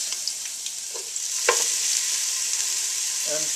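Garlic and onions fry in a tablespoon of oil in a hot pan, a steady close sizzle with a few soft stirring scrapes and brief clicks of a utensil.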